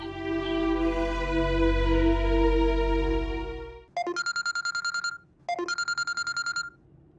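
A phone rings in a drama scene: a long sustained melodic tone gives way to two bursts of rapid, bright trilling rings, loud and close, with no speech.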